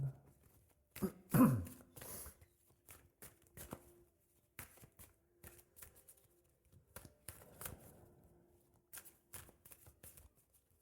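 One throat clearing near the start, followed by quiet shuffling and light tapping sounds in an otherwise hushed room.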